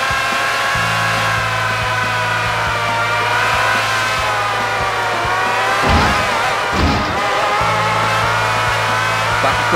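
Motorcycle engine in the PS2 racing game Isle of Man TT, revving hard and steady through a bend, with a brief dip and recovery midway as the rider backs off and gets back on the throttle.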